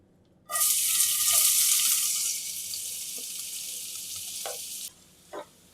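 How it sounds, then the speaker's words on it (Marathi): Onions hit hot oil in a pan with a loud burst of sizzling that gradually settles into a steadier frying hiss, broken by a few faint clinks before it cuts out near the end. "आता आम्ही कांदे भाजून घेया।"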